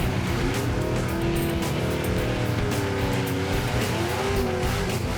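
A 1967 Chevy Camaro's loud engine rumbles and revs up close, with a lumpy, uneven idle and rising tones over a constant roar.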